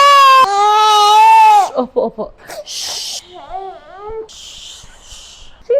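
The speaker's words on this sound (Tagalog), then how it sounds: "Bigla siya nagising ng umiiyak." An infant who has just woken suddenly cries loudly and close by in long wailing bursts, then breaks into shorter whimpering sobs. Someone speaks briefly between the cries.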